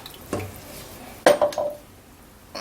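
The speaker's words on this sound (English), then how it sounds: "and I'll stir that in" A spoon stirs a rich Mornay cheese sauce in a pan, giving a few soft scrapes and clinks against the metal in short close bursts.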